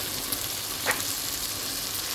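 Tomatoes sauté in a hot pan with a continuous, close sizzling hiss and a brief stir partway through, with no talking.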